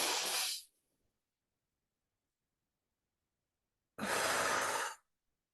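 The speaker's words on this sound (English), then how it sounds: "And take a deep breath in." Two slow, deep breaths during a guided breathing meditation, each a long airy rush of air, with near silence between them.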